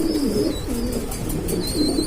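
A pair of Mili racer pigeons, cock and hen, offered for sale, coo in soft repeated rolling phrases close by. A faint high chirp drifts over them.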